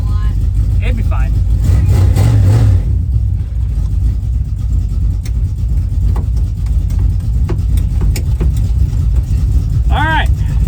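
Inside a home-built track cross car, the engine hums steadily and loudly throughout, with talking over it and a few brief higher-pitched sounds near the end.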